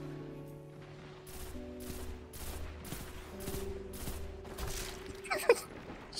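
Rapid bursts of automatic gunfire from a Destiny 2 match crackle in steady repeated volleys over game music and ambience, ending with a sharper nearby shot.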